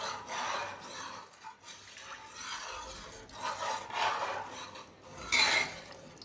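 Scraping and rubbing of a spoon stirring masoor pulao ingredients in a pressure cooker, with rhythmic strokes of rasping swishes and light metallic scrapes, close and moderately loud.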